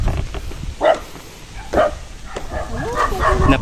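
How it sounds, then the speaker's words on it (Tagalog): A pack of dogs barks near a rural road in the province, sharp single barks and yips arriving every second or so, then overlapping excited barking from several animals close by. "Napakarami pong aso."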